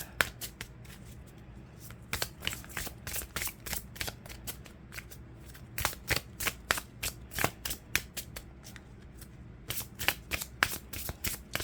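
Oracle cards shuffled for a reading, sounding as a close run of quick riffling bursts and soft flicks in uneven clusters, loud against quiet background, with no talk.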